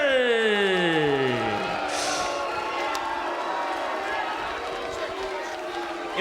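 A professional wrestling crowd in the Impact Zone rises and cheers at a TNA Sacrifice pay-per-view, a steady, sustained roar that holds through the whole stretch, with a commentator talking over it.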